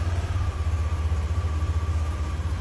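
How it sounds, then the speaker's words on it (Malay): A 2023 Yamaha NVX155 V2 scooter idles close by, its small engine putting out a smooth, even low putter with a faint pulsing rhythm and no speech over it. "Enjin pun smooth lagi."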